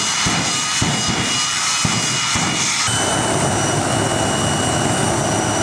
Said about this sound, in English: Jet Cars from Canada.